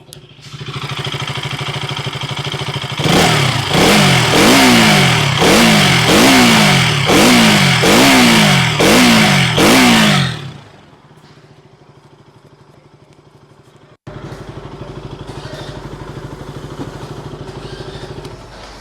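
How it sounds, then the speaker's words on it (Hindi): A rebuilt KTM RC200 motorcycle engine revs loudly and close up: about eight sharp throttle blips in quick succession rise and fall over a steady idle, then it drops back to a quieter idle. No one talks. "इंजन का साउंड है मस्त बना है"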